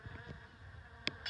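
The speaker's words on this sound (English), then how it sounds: "They flew round Thomas like a buzzing cloud." A swarm of bees buzzing in a low, steady drone with a faint hum throughout, broken by a couple of brief sharper clicks near the end.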